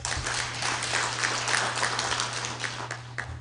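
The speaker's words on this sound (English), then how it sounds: "We clap for ourselves." Audience applause at a library and information centre association's annual general conference, a steady crowd of many hands clapping together, dense and sustained with a low electrical hum underneath and no speech.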